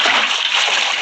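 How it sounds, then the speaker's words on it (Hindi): Water poured from a bucket in the Minecraft video game, a close, loud, continuous wash of splashing liquid lasting about a second. "ये देखो मैंने अभी इधर पानी डाल देते पहले थोड़ा"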